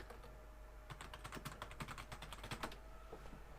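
Fast typing on a computer keyboard, a rapid run of crisp key clicks close up and fairly quiet, with short pauses before and after the burst.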